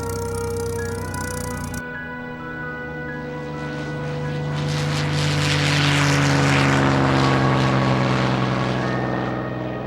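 A rebuilt P-51 Mustang warplane, the Tuskegee Airmen, flies with its propeller engine roaring loud and close, swelling into a broad rushing drone that peaks mid-flight.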